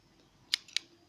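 Blue Crayola scissors are handled, giving two sharp, quiet metallic snips about a quarter second apart against near silence.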